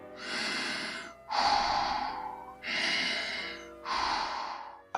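Four slow, rhythmic mechanical-sounding breaths, alternating in and out, as a voice imitates Darth Vader snoring; close and fairly quiet, no words.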